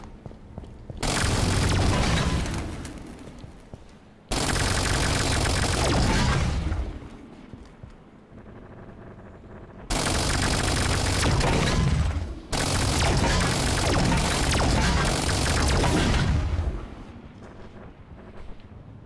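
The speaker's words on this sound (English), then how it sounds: "You have a Spartan laser that shoots fuel rod cannons." Scarab gun fuel rod blasts in Halo 5, heard as four long, loud booming roars that each sustain for a couple of seconds and then cut off, with quieter gaps between them.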